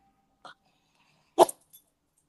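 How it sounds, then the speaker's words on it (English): A dog sneezes sharply once, close by, after a small snort, in an otherwise quiet room. "That was my dog sneezing."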